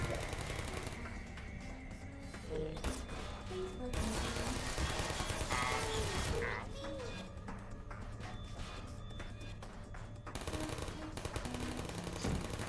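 Rapid automatic turret fire in the video game Portal, bursts of fast mechanical rattling that come and go over game music and ambience, fairly loud throughout with brief pauses.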